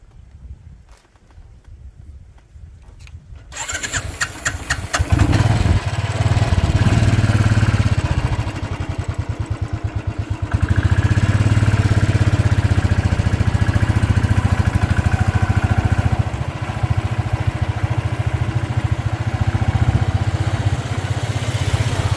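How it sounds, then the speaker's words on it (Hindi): A car and a motorbike pass on a hill road above a deep valley in Haryana. After a quiet start, loud, close engine noise rises and holds steady, with a rough, chugging motor rumble throughout. "वो कार जा रही है, वो बाइक जा रहा।"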